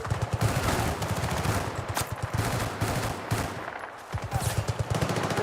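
An AEK 971 assault rifle fires in rapid, sustained automatic bursts in a Battlefield game, loud and close, briefly pausing before resuming with another fast volley.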